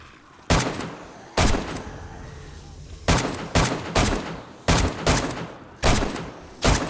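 Pistol fire in the zombie survival game 7 Days to Die, eight loud sharp shots at an uneven pace, each with a short echoing tail, no talk.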